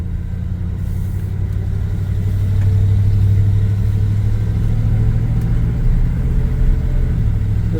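A 1978 Chevy C10 pickup truck engine rumbles steadily while driving down a street, a low continuous drone that swells a little midway, with no talking.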